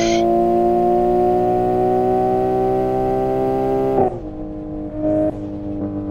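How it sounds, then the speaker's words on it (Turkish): A Nissan Skyline GT-R R34 Nismo in the racing game Assetto Corsa holds a loud, steady engine drone with turbo whine, then the throttle lifts and it drops off with a brief flutter before revving again. "Şu turbo sesi var ya."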